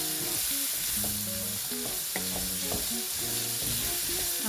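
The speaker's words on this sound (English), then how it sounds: "Then also I'll add my seasoning to it. Then give it a stir." Rice sizzles steadily in a pan with red chili pepper and seasoning while a utensil stirs it, scraping and clinking in an irregular rhythm over the constant close frying hiss, with no one talking.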